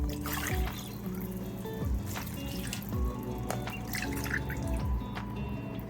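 Water trickles and drips steadily into a cooking pot for stew, a continuous liquid splashing with a few brighter plinks, no voices.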